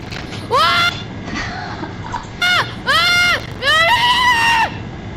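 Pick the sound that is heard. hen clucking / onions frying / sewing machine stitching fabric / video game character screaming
video game character screaming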